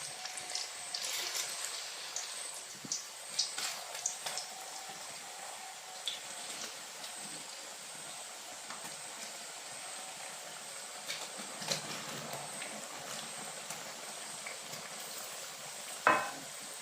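Raw banana slices for chips sizzle and crackle steadily in hot oil in a home kitchen, a soft continuous fizz with occasional small pops and a sharper clink near the end, no talking.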